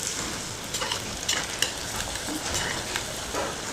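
Bonda batter frying in hot oil, a continuous crackling sizzle with small bursts and pops, plus occasional soft stirring clicks, close and steady without voices.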